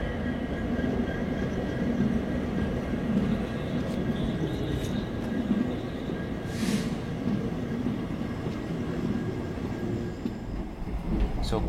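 Arsikere–Bangalore passenger train in motion, heard from inside: a loud steady rumble of the carriage with rail noise, continuous for the whole stretch.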